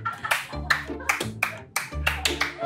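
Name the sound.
hand clapping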